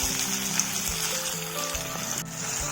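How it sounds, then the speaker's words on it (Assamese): Capsicum and onion sizzling in hot oil for chilli chicken, a steady close frying hiss with occasional low knocks, no talk. "এয়া আমি 10 মিনিট মান ভাজি থাকিম যাতে অকমান ৰঙা ৰঙা হয়।"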